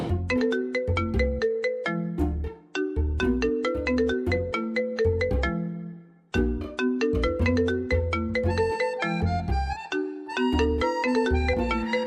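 A phone ringtone plays a bright, repeating electronic melody for an incoming call, loud and alone, pausing briefly twice before the tune starts again.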